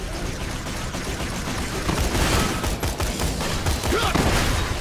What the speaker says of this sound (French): Hop, on va faire des tirs de hanche.